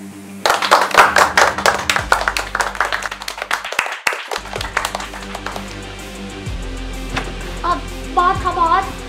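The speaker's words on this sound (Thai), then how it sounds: "มาพวกเราปรบมือต้อนรับทุกคนหน่อยเร็ว" A small group claps by hand in welcome, with quick irregular claps for a few seconds, then a pause. Sparse claps and quieter background tones follow.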